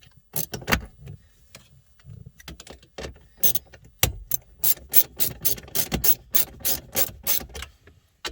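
Ratchet driving small screws while installing the factory radio head unit in a 2008–2009 Ford Taurus X: close, crisp clicking bursts in quick repeated runs with short pauses, growing more regular toward the end.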